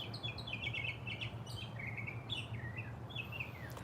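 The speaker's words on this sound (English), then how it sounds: "Are these the mockingbirds? I think that's my favorite bird song." Mockingbird singing a varied run of bright, chirping phrases in repeated bursts, moderately near, over a steady low hum of background noise, with no talking.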